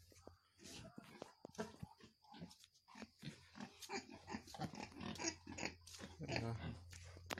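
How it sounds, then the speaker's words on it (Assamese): A five-month-old pig eating grain feed grunts and chews with close, irregular snuffling and crunching, while a quiet voice murmurs in the background. "এয়া চাওক, গাহৰিটো বৰ্তমান দানা খাই আছে।"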